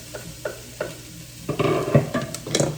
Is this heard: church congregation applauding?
no